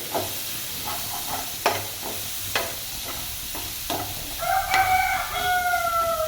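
Chopped onion fried in a pan, with soft sizzling and a few spatula scrapes up close, while a rooster crows in the background toward the end.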